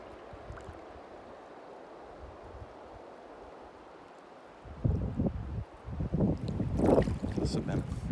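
Blustery wind buffeting the microphone beside a river during a fishing trip, a low rumbling gust at first, then louder, rougher bursts of wind noise toward the end.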